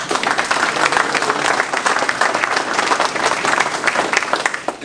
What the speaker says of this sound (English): So you can give them some more applause.